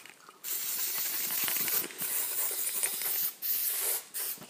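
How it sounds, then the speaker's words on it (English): Aerosol VHT caliper cleaner sprayed over brake calipers before painting, a close, steady hissing spray in several bursts with short breaks between them, no talking. "we're going to spray it over the entire surfaces that we're going to be painting"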